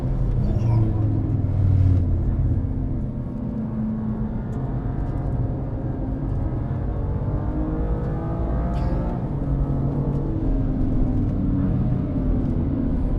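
A BMW M2 Competition on Goodyear Eagle F1 SuperSport tyres runs fast on the Brands Hatch track, its engine droning loud and steady from inside the cabin while someone talks over it.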